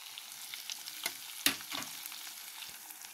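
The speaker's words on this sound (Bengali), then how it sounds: "পেঁয়াজটাকে একটু লাল লাল করে ভেজে নেব" Quiet, steady frying in oil, with a soft sizzle and a couple of brief scraping stirs in the pan.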